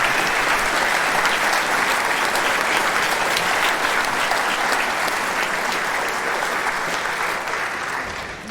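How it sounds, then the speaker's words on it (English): An audience at a ceremony gives a sustained round of dense applause, loud and steady for several seconds before starting to taper off. "Give yourself a round of applause."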